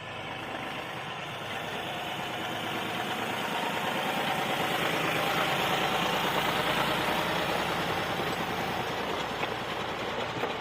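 A New Holland T4.60S tractor's diesel engine runs steadily at a constant drone while plowing a field, fairly close, with a faint rhythmic chug and no talking.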